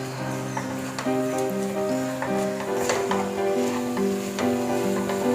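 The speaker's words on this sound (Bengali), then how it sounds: "এবার আমি ভেজে রাখা সেমাইটা দিয়ে দিচ্ছি।" A pan of fried laccha semai simmering in boiling sweetened milk, stirred steadily, giving a close, continuous sizzle with scraping and soft clinks of the spoon against the pan, no talking.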